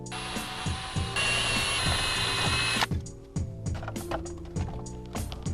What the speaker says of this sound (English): grab a 7mm socket to remove the 3 screws holding the head unit in